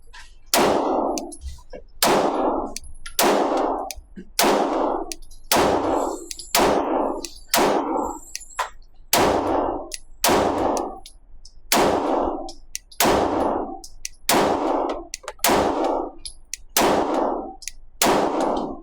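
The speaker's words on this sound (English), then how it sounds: "So let's go take some rounds and shoot." Shots from a Rock Island Armory Derya DY9 Glock-style 9mm pistol ring out one at a time at a steady pace, each crack loud and sharp, about twenty rounds in all with no talk between them.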